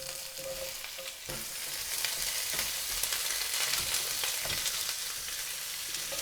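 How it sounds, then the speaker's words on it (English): Onions cook in oil in a pan, a steady, fairly soft sizzling hiss with faint stirring scrapes, heard alone without any talking. "And now I'm going to cook my onions in here."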